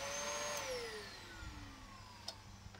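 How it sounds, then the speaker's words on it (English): A Dyson DC14 upright vacuum cleaner runs with a noisy brush roll, a steady close whine whose pitch sweeps down as the motor settles, with a couple of brief knocks near the end. "I'd say that sounds okay, but we've got a bit of a noisy brush roll"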